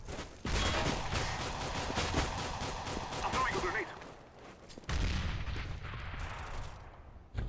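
Counter-Strike: Global Offensive gunfire rings out in a competitive match, with sharp, repeated shots in rapid bursts, then a brief lull before another close, loud volley.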